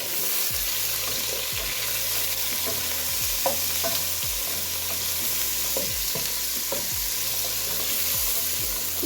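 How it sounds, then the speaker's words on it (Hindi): About 300 grams of chicken being fried in a pan for chicken soup, a steady loud sizzle under a long run of regular spatula scrapes and stirs, close up with no speech. "अब इसको भून लेना है।"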